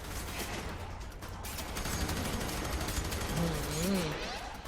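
Rapid gunfire from a first-person shooter game, F.E.A.R. 3, crackling in dense sustained bursts throughout, with players talking over it.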